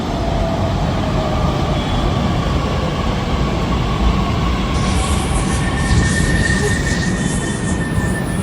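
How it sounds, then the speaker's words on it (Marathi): Metro train pulling into an elevated station, a loud continuous rumble and rolling roar with a faint squeal and a hissing rise toward the end, no voices. "मेट्रो आली मित्रांनो."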